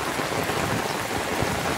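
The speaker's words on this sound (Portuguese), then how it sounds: "Que chuva maravilhosa," Steady rain pours over a rural farm at Sítio Tabocas de Altinho, a dense, even hiss of drops hitting surfaces that fills the whole stretch without pause, close and fairly loud.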